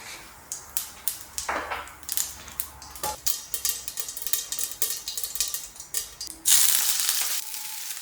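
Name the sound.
aubergine frying in sesame oil in a pan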